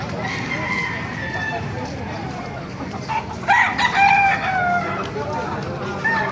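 A rooster crows once, fairly close and loud, amid background clucking while people talk nearby at a chicken market in Baliuag, Bulacan.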